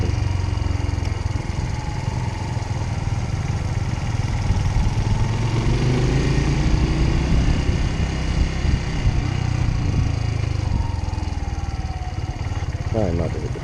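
A motorcycle engine labors at low revs in second gear during a training course ride, a loud, steady, rough drone close to the mic with wind buffeting, and a voice speaking over it at times.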